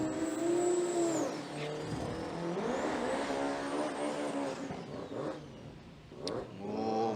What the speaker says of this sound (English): very purposeful burnout again there from Scotty Hoffman